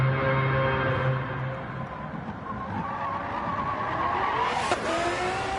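Race cars in Gran Turismo 7 run the Tokyo Expressway, engines droning and whining steadily near and loud as one car brakes, and tires squeal through a hairpin, with no talk.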